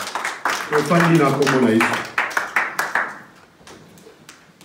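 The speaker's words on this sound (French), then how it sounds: "Est-ce qu'on peut acclamer pour la parole?" A church congregation bursts into clapping in praise after the sermon, a burst of sharp, rhythmic claps that fades out, with voices speaking and calling out over the first part.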